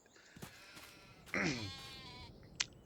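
A single sheep bleat from a Farming Simulator 22 farm, a short wavering cry in the middle over a low ambient background, with a couple of faint clicks around it.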